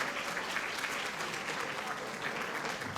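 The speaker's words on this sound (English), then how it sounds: "Give him a huge round of applause" Warm, even applause from guests at a volunteer recognition luncheon, honoring the man who organized the decorations; the clapping is dense and continuous but fairly distant and soft, with faint voices mixed in.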